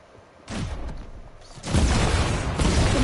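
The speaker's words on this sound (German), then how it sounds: "Leute, von mir hier kam Schüsse." Muffled booming gunshots in a hide-and-seek video game arrive in two heavy blasts, the second louder and sustained like a rolling burst, with no voices.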